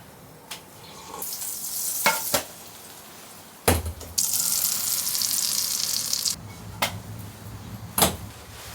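Pancakes frying in butter on a stove in a cabin during a rainstorm, with bursts of loud sizzling hiss broken by sharp clinks and knocks of utensils and cookware, no talking.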